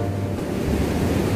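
Surf at Karang Payung beach in Gunturharjo, a dense close rush of breaking waves with wind buffeting the microphone, heard alone in a brief burst.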